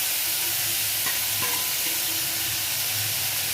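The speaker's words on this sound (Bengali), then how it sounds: "এটা ভালো করে কষানো হোক পেঁয়াজ আর টমেটোটা।" Onion and tomato sautéing in a hot wok produce a loud, dense, unbroken sizzle with occasional light utensil taps and stirring scrapes beneath it, no speech.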